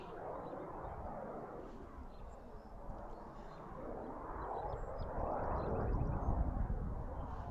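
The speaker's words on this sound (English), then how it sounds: "Vision Jet just took off on 2-6." A Cirrus Vision Jet taking off from runway 26 at Lancaster Airport, Pennsylvania: a steady distant broadband engine roar that swells gradually louder over several seconds, with faint bird chirps and outdoor ambience.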